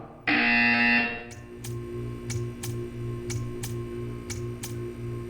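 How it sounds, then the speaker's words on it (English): A loud, steady electronic buzzer tone from the video game Portal 2 sounds for about a second, followed by a regular ticking beat over a low hum. "You will hear a buzzer."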